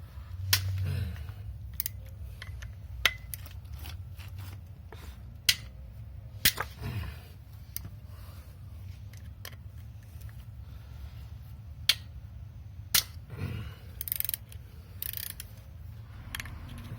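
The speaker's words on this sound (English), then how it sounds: "I guess I had it on my ratchet the whole time." A ratchet turns a large Torx bolt on a VW Passat engine, making sparse sharp clicks and ticks at irregular intervals, close and fairly faint, over a low background hum.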